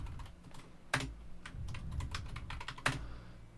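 Close, crisp computer keyboard keystrokes as a Restic prune command is typed, a quick irregular run of light clicks with two sharper, louder key strikes standing out, no voices.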